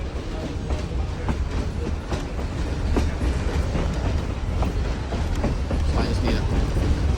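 Tourist train running through the Tennessee mountains, heard from on board: a steady, loud rumble with rhythmic clickety-clack of wheels over rail joints, continuous throughout, with faint voices mixed in.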